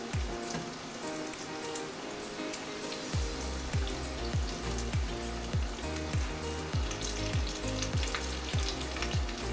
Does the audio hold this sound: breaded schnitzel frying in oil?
yes